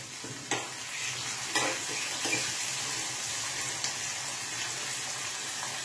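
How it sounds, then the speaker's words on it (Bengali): Onions frying in a pan being stirred, a constant close sizzle and hiss with a few light knocks and scrapes of a spoon against the pan, no talking. "এই যে পেঁয়াজটা আমি ভাজতে বসিয়ে দিয়েছি"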